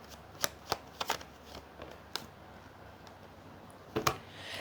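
Tarot cards are shuffled and flicked down in a reading. The crisp, close card slaps and riffles come in irregular clusters, alone and without speech.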